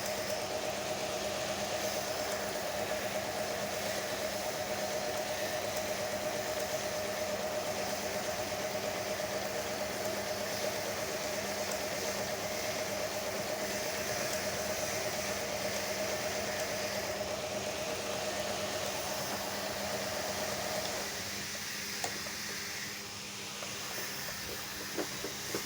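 A Juki HZL-E60 sewing machine stitches at raised speed, a steady close mechanical whir with a constant hum that runs unbroken before slowing and stopping near the end.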